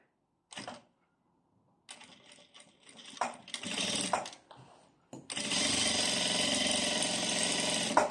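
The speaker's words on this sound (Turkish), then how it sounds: "Düz dikiş diker gibi biyenizi takıyorsunuz." Sewing machine stitching bias binding onto fabric with a binding attachment: short bursts of rapid mechanical whirring, then a long steady run of fast stitching, close and clear, with brief pauses between runs.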